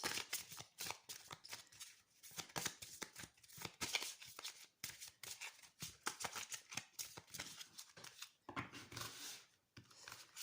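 A deck of tarot cards is shuffled and handled close up, with quiet rapid riffling and sliding card sounds in uneven bursts, soft and continuous.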